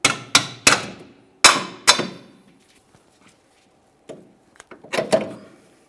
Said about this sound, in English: We've got our hammer.